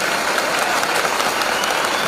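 A meeting audience claps in a brief, dense burst of steady applause, loud and even throughout with no talk over it.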